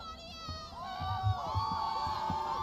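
A town crowd in a film cheers and shouts, with many overlapping voices rising and falling, lively but moderately quiet, over a background of soft thumps.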